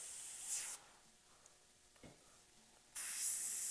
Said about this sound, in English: paint is not coming out of your airbrush when you pull the trigger back far enough to normally allow paint to flow